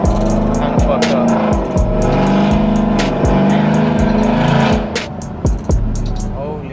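A 2025 Ford F-150 with the 5.0 Coyote V8, Corsa exhaust and long-tube headers revs hard and loud close by, its deep rumble climbing and dropping in repeated bursts with a steady idle between pulls.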